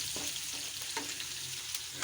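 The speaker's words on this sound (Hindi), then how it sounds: "अब हम इसमें मीडियम साइज़ के 2 प्याज डालते हैं, जिनको हम हल्का ब्राउन होने तक पकाएंगे।" Two medium onions fry in hot ghee with a steady, soft sizzle and the occasional light stir, low in level and with no voices.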